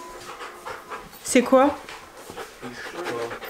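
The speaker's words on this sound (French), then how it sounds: "Il veut quoi ce chien?" A dog pants close by in quick, breathy bursts, with a short flurry of louder huffing partway through, while a person speaks French over it.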